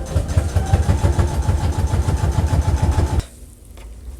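An industrial sewing machine stitches the tip of a handmade duffle bag, a steady mechanical whir with rapid rhythmic pulses running for about three seconds before stopping abruptly into quiet room tone.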